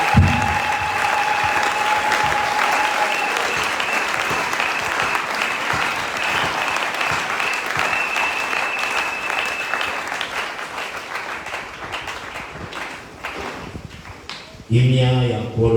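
A church congregation at a Congolese worship service applauds steadily and loudly for about fifteen seconds, a dense wash of clapping with voices mixed in, ending in a brief burst of speech.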